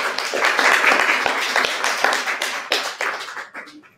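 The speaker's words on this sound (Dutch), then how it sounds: "Met jullie applaus." An audience applauds a minister at a Dutch event, dense continuous clapping from a crowd that holds loud for about three seconds and then thins out and fades.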